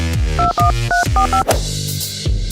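Phone keypad tones beep out a quick run of dialed digits, several short tones in uneven bursts, close and clear over a faint room hum.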